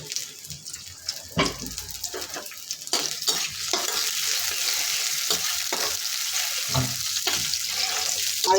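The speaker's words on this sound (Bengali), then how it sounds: "এখন সেটা আমি একটু রসুন আর পেঁয়াজ দিয়ে বাগার দিয়ে নিব" Garlic and onion crackle in hot oil for a tempering, with a steady close sizzle and occasional stirring knocks against the pan.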